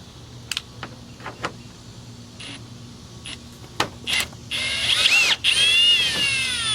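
Bolt being loosened under the bumper of an 8th-generation Toyota Camry (2018-2024), a power tool giving a few short bursts, then a longer steady whirring ratchet run near the end, close and fairly loud.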